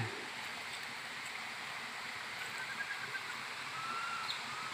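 Steady rushing water hisses continuously, a waterfall's even roar heard from a moderate distance with no voices over it.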